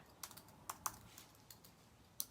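Scattered keystrokes on a computer keyboard while searching for peppermint images: a few quiet, separate clicks spaced irregularly over a couple of seconds, close by, with no talking.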